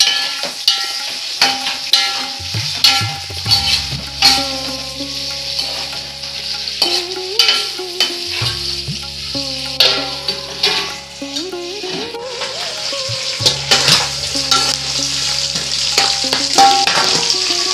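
Small gudlusheru fish frying in hot oil with curry leaves, a continuous loud sizzle broken by repeated clinks and scrapes of a ladle stirring in the pan, no talking.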